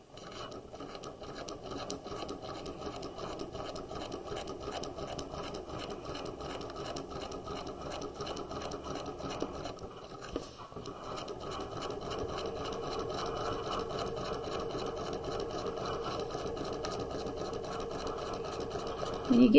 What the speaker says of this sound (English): we will sew at 3/8 of an inch around the neck